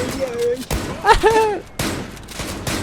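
Gunfire in the shooter game ZULA during a team deathmatch, a few sharp bursts of shots cutting through noisy in-game sound, loud and close.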